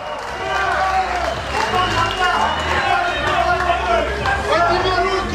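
A live mixed martial arts fight-night audience applauds the fighters, dense steady crowd clapping with cheering underneath, while an announcer's amplified voice talks over it.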